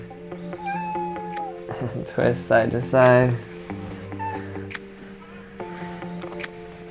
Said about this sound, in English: My cat knows when I do floor exercise, that's her best chance of getting petting